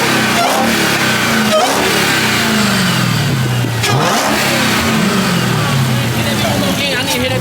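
An SRT8 car engine revs at a car meet, a steady loud roar with rising and falling pitch sweeps throughout, while people talk over it.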